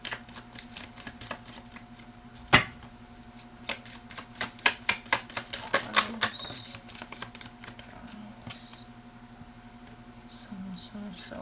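Slightly sticky tarot cards being shuffled by hand, a rapid, uneven patter of close papery clicks and flicks that bunches up in the middle and thins toward the end.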